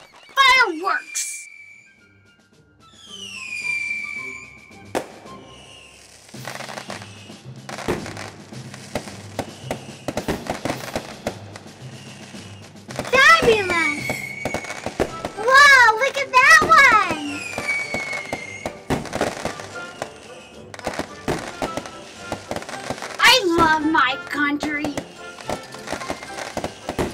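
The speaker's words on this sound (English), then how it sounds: "The fireworks have started!" Fourth of July fireworks go off in a long series: whistling rockets rise and fall in pitch, then sharp pops and crackling bursts follow at irregular intervals, mixed with excited voices.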